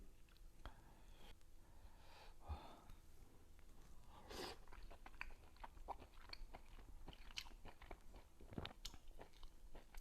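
Someone chews tender, lean boiled pork cooked in plain water, with soft wet smacks and occasional small crunches repeating irregularly. The sounds are close-miked but very quiet.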